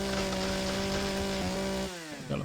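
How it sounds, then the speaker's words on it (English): A survival tool drill in the space game Empyrion Galactic Survival, cutting at a tree for logs, gives a steady, loud, droning mechanical whine that cuts out abruptly near the end. "I'm really liking the sound effect on this drill."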